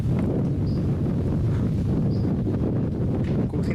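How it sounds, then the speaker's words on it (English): Steady outdoor wind roars and buffets the microphone throughout, a broad continuous rumble with no talk over it. "Good thing the wind's blowing the smoke well away from me."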